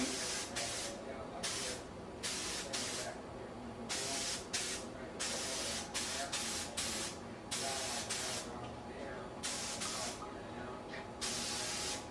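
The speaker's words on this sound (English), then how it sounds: "Just keep walking around it and keep spraying." Spray gun painting a Chevy car body in a cramped paint booth, sounding as a series of loud, sharp hissing bursts of varying length, separated by short pauses, close up.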